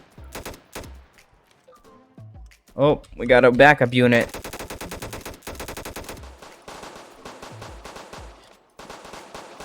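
Gunfire in a Roblox police simulator game crackles as rapid automatic bursts and scattered single shots, fairly close and steady across the clip, with a person speaking briefly over the shooting.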